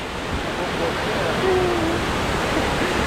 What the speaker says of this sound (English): Okay, so we've just got to the waterfall.